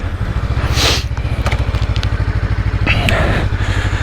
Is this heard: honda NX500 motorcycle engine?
yes